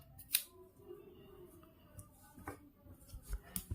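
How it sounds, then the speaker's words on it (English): Scissors snip embroidery threads after hand embroidery in a hoop, a few quiet, sharp clicks scattered over a soft background hiss, close by and with no talking. "Now just simply I have to cut off the threads."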